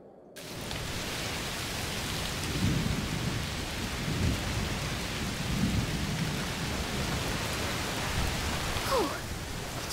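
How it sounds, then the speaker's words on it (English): Heavy, steady rain pours down with low rumbles of thunder rolling through in the video game A Plague Tale: Requiem, continuous and enveloping, with no voices. "Oh, it's raining a lot."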